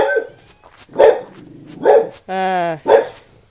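A pet dog barks loudly and close by, three sharp barks roughly a second apart with a drawn-out tonal whine between the last two, in a quiet room.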